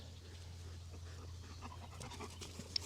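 A ranch dog pants softly in quick, steady breaths, close by against a low background hum, with no voices over it.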